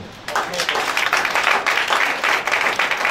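A church congregation breaks into applause and cheering, a dense, sustained wash of clapping that rises after a brief quieter start and holds steady throughout.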